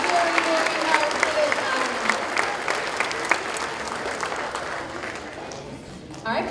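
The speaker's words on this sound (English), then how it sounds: "Let's have one more round of applause for these kiddos." A school audience applauds fifth graders at their completion ceremony, a steady wash of clapping with some crowd noise that gradually thins toward the end.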